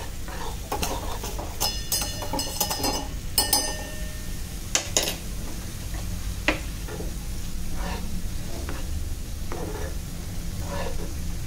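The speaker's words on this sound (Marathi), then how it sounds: "आता हे छान आपण तेल सुटेपर्यंत मीडियम टू हाय गॅसवर परतून घ्यायचं" A spoon clinks and scrapes against a pan as chili masala is stirred and sautéed in oil for a Malvani-style mackerel (bangda) pickle. The irregular metallic taps are scattered over a steady low kitchen background.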